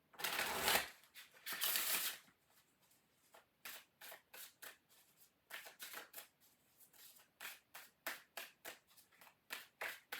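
Cards from a Vampire Tarot deck are shuffled in several rapid riffling bursts, followed by a run of crisp, evenly spaced snaps and taps as the cards are handled and laid out, close and clear with no talking.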